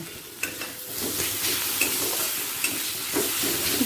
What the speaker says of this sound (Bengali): আদা রসুন বাটাটা দিয়ে পুরো মশলাটাকে ভালো করে কষিয়ে নেব আর দিয়ে দিচ্ছি চেরা কাঁচা লঙ্কা